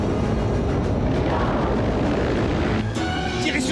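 A steady, loud drone of aircraft engines idling before takeoff in an action film scene, continuous throughout with a slight change in texture near the end.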